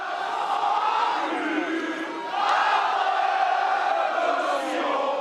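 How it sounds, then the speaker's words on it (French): A large outdoor crowd outside the Zénith sings La Marseillaise, many voices blending into a sustained, slightly distant chant that swells partway through. "la Marseillaise retentit"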